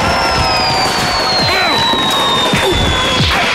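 Fireworks and firecrackers banging and whistling on New Year's Eve in a German TV commercial, with bright crackles, a rising whistle and repeated pops under a continuous high tone and a cheering crowd.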